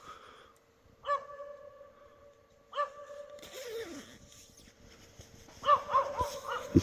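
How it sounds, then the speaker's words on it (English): A wild dog barks out in a forest, with a few sharp, separate barks spaced a second or two apart. Rustling and a louder burst of noisy sound follow near the end. "There's a fucking wild dog back there."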